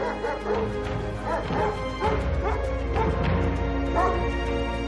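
Large Kangal shepherd dogs bark and yelp repeatedly over a steady background hum, several barks overlapping, close and fairly loud.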